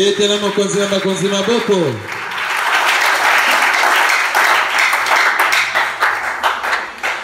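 A church congregation bursts into applause and cheering after a preacher's voice with musical tones, the clapping dense and sustained, filling the hall at moderate distance.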